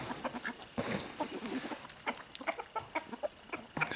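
Chickens clucking in short, irregular bursts, fairly close, with scattered soft calls and rustling between them; no talking.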